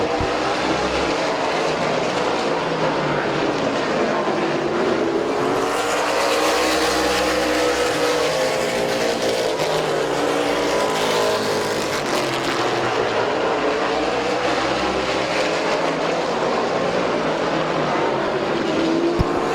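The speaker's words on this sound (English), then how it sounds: "Bryant Smith, Bubba Smith, Tom Stankiewicz, your top 5 all nose to tail down the back straightaway." Race cars run nose to tail down the back straightaway at Midvale Speedway, a loud continuous roar of several engines with rising and falling pitch as they pass close by.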